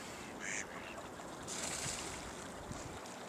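Ducks at a duck factory in winter give a few short quacks over steady outdoor wind and water noise, faint and somewhat distant, with some brief sounds standing out.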